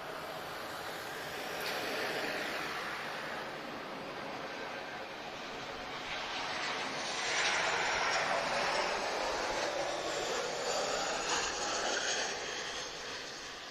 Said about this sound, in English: very spirited arrival from Transavia as usual